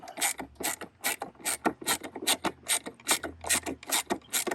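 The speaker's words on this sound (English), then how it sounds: "there are 4 bolts right here, 5/16 bolts. Take all 4 of these out." Ratchet wrench removing 5/16 bolts from the blower motor of a 1997 Ford F350 truck, a rapid run of about a dozen close, crisp clicking strokes in steady rhythm, with no voices.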